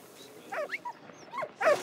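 Dog whimpering and yipping in the World War I game Soldats Inconnus: Mémoires de la Grande Guerre, several short whiny cries in quick succession, close and fairly clear with no talk over them.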